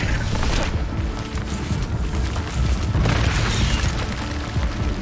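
Fire spell Incendio cast in Hogwarts Legacy, loud roaring whooshes and booming bursts of flame that swell and fade repeatedly over a few seconds, dense and close with no talking.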